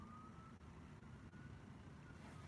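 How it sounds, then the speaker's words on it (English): A faint siren wailing in the distance, a thin steady tone rising slightly over low, constant background noise. "okay, I hear a siren."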